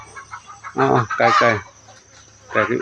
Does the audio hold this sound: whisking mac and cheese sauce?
no